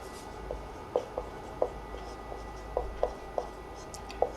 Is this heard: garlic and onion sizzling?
no